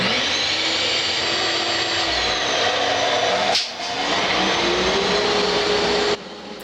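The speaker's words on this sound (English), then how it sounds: "For this other one, I'm going to hook up my dust collector to it." A woodshop dust collector runs during bowl turning, giving a loud, steady roaring drone that dips briefly midway and then drops in level near the end.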